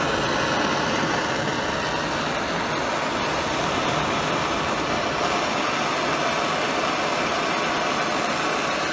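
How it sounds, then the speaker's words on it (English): A torch's direct, hot flame blows onto embers to get a smoker going for smoking cheese, a loud, steady, close roar of broadband rushing noise with no break and no talking. "good, direct, hot flame like this to get it kind of blowing on it, just to get the embers going more"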